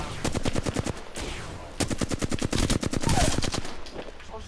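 Rapid bursts of automatic gunfire in an Apex Legends firefight, loud and close, with dense rattling volleys separated by a short pause and more shots following.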